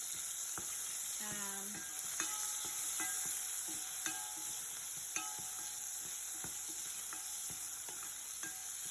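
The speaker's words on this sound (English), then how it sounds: "So that's been frying off for a few minutes, maybe 2 or 3 minutes." Chicken sizzles steadily in a hot pan, a soft continuous hiss with occasional clicks and scrapes of stirring, quiet and close.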